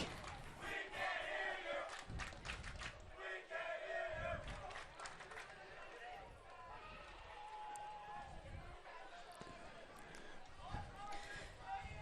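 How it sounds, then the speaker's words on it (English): A big crowd of fans at a college men's soccer match at Davis Field roars and shouts in waves, with voices talking over the steady stadium noise. "this could be one of the biggest crowds I've seen at Davis Field for a long time"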